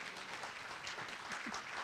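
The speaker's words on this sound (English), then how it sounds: "You can clap for them." An evening audience at a church recovery gathering applauding the panel, a steady wash of clapping from many hands, moderately distant and even throughout.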